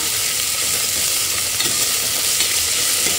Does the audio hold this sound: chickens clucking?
no